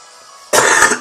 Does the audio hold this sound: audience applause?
no